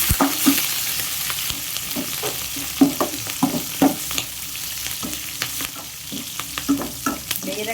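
Finely chopped green chillies fry with curry leaves in a hot pan for a ridge gourd and moong dal curry. A steady loud sizzle runs under repeated scraping stirs of a spoon, close up and with no voices.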